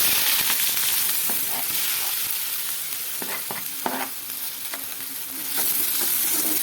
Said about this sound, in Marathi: आता बारीक चिरलेला कांदा